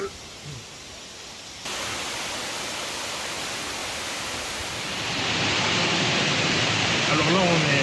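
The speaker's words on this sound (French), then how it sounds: "Alors là, on a la cascade derrière." Continuous roaring rush of a waterfall, a broad hiss that grows louder partway through and stays steady to the end.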